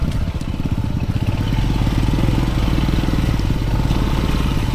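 A motorcycle engine rumbles loud and close with a steady rhythmic throb, rattling and vibrating continuously as it rides along a rough road.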